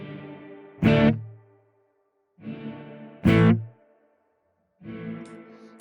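Electric guitar through a Strymon BigSky reverb pedal set to maximum pre-delay: three softer chords alternate with two loud, bright bursts, each swelling in after a gap, with a brief silence between some phrases.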